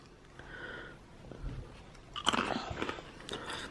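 French Toast Crunch cereal is crunched by mouth up close, with irregular loud crisp bites and chewing that grow stronger toward the end, and no talking.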